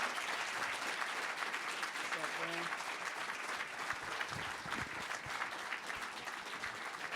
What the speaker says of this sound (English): please give another round of applause for Jesse